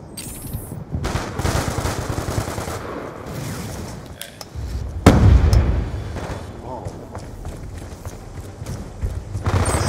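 Pistol gunfire in a first-person shooter video game, a series of sharp shots in bursts over game ambience and mechanical clatter, with a player's voice talking intermittently.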